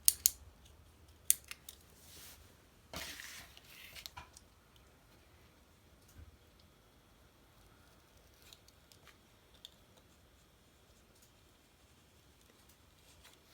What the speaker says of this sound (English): You're cutting with a blade, not like a vegetable peeler. So you're still going to slice it.